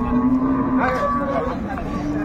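A dairy cow and her calf at a cattle market in Raniganj haat, Dinajpur, with a drawn-out moo rising over a busy, rumbling crowd and a steady engine drone.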